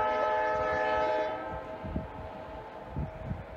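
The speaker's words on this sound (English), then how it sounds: "It'll be the first train of the week on this line." A freight train horn blares loudly at the start, then fades as rail cars rumble and clack past nearby over rusty, snow-covered tracks.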